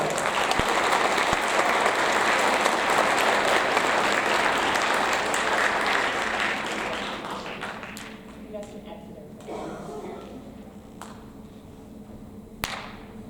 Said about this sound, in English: So one more round of applause.